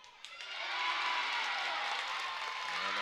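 A home crowd at an acrobatics and tumbling meet breaks into cheering and applause, swelling after a brief quieter moment and then holding as a dense, steady roar with clapping.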